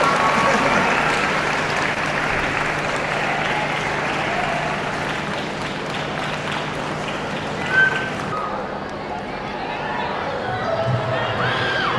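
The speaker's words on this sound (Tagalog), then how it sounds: "Lakasan niyo ba yung palakpak para bumilis maglakad?" Applause rises from an audience at a faith talk as a sharer is called to the stage, loud and sustained broadband clapping with crowd murmur, easing slightly before a brief burst near the end.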